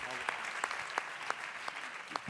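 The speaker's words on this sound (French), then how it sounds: "On peut applaudir Romain Boucaud, maître." Audience at an events-industry awards night in Lyon applauds an honoree: soft, continuous clapping from a crowd with a few distinct, rhythmic nearby claps standing out at regular intervals.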